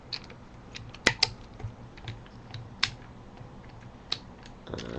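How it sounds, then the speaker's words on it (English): Transformers Animated Voyager Optimus Prime toy being handled, bumper flipped down and parts split apart: small plastic clicks and ratcheting snaps, scattered and quiet, a couple of sharper clicks standing out. "Just want to flip down the bumper and split these two apart."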